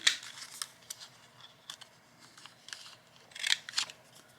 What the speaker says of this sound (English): So I'm going to go ahead and chop these corners off.